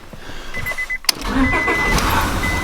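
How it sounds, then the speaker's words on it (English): A car engine, after a repair, cranks and catches, then runs with an uneven, rough idle. "Oh, she started. She sounds rough though."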